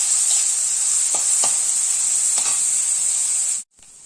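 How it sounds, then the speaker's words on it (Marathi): Two chopped onions fry in oil, a loud, steady, close sizzle with a few soft scraping stirs, cut off abruptly near the end and then returning faintly. "आता आपण कांदे टाकूया, 2 कांदे चिरून घेतलेले आहे, चांगले परतत राहूया, ब्राऊन होईपर्यंत परतून घेऊया।"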